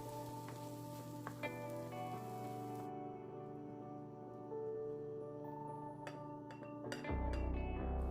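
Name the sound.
onion, chestnuts and Brussels sprouts cooking in a pan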